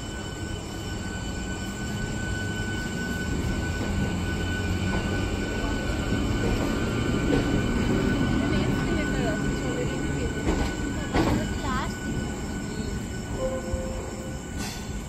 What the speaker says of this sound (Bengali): যে ট্রেনটাতে আমরা এলাম সেটা এখন বারোয়ারার উদ্দেশ্যে, বারহাওড়া জংশনের উদ্দেশ্যে ছেড়ে দিল।